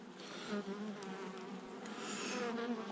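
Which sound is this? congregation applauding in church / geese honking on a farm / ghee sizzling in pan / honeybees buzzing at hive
honeybees buzzing at hive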